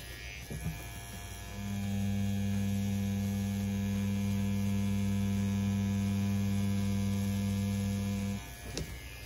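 A CNC P6 rotary tattoo machine fitted with a quill and a round liner needle, running at about 7.5 volts, hums steadily and close for several seconds after a click, then cuts off.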